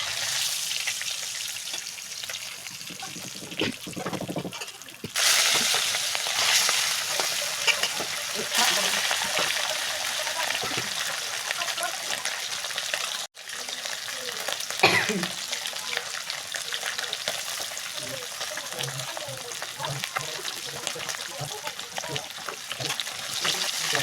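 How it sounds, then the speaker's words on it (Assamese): Red chilies fry in hot oil in a pan, giving a loud, constant sizzle with occasional stirring scrapes and brief louder bursts; a voice speaks intermittently over the cooking. "মৰিচটো ফ্ৰাই কৰি ল'লোঁ"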